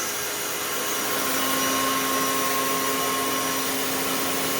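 Panasonic and Rainbow D4C vacuum cleaners run with strong airflow, a loud, steady, close whooshing roar with a faint constant whine that holds level throughout, with no voices.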